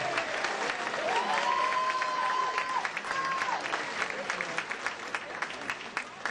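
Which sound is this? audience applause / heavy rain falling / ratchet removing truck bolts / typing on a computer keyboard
audience applause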